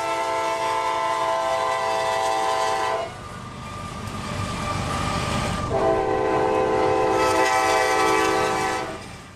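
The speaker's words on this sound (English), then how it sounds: "as the train overtook us once again at Dade City" A freight train at Dade City sounds its horn in two long loud blasts over a steady rumble of passing wagons, with wheel clatter between the blasts.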